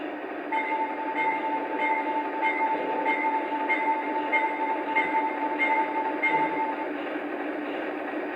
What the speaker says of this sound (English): Next, here is the bell.